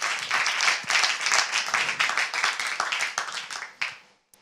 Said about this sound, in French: J'aimerais qu'on acclame une fois pour le Seigneur Jésus.